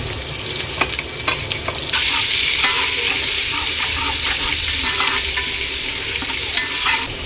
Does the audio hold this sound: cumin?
yes